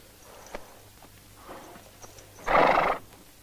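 A horse in a 1970 American Western gives a loud whinny near the end, after scattered, moderately near hoof clip-clops on the ground.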